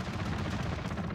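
Gunfire in the Call of Duty Modern Warfare beta, a dense, rapid string of shots running the whole short moment at moderate distance.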